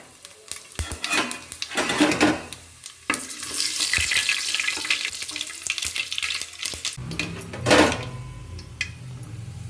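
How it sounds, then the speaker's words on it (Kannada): Mustard and fennel seeds hit hot oil in a pan, giving a loud crackling sizzle with popping bursts and clinks of a utensil against the pot, close and continuous. "ನೋಡಿ ಎಣ್ಣೆ ಬಿಸಿಯಾಗಿದೆ. ಇವಾಗ ನಾನು ಸಾಸಿವೆ ಮತ್ತು ಸೋಂಪನ್ನು ಹಾಕ್ಕೊಳ್ತಾ ಇದ್ದೀನಿ."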